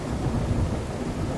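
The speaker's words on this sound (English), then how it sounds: "I like the rain stuff though." Rain and thunder from the Ultra Dynamic Sky weather system in a video game: a steady wash of rainfall under low, rolling thunder, continuous and fairly quiet, with no voices.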